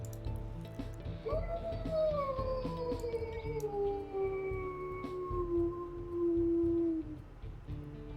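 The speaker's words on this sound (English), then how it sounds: "let's hear what his howls sound like" A wolf in the video game WolfQuest lets out one long, rising then slowly falling howl, sustained for several seconds over a steady low game ambience.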